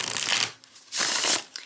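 Tarot card deck being shuffled close by, two distinct bursts of riffling, crisp papery card noise separated by a short pause, with no talking.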